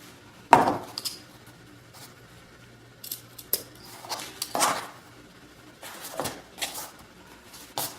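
Scissors trim a piece for a Prima Lavender crafting page, with a sharp snip followed by a series of quieter, irregular cuts and light handling clicks, close and clear.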